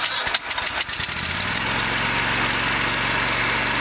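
A small Exmark lawn mower engine with a suspected blown head gasket cranks with a few sputtering pulses, then catches and settles into a steady, even idle close by.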